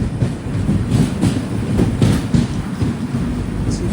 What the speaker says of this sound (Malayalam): ട്രെയിൻ ഇപ്പോൾ കടലൂർ പോർട്ട് ജംഗ്ഷനിലെത്തി